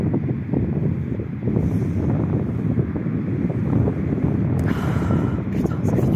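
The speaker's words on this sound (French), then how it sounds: "Parce qu'avec ce vent de fou," Strong, freezing wind buffets the microphone in a steady roaring rush with low rumble and no letup, no voices heard.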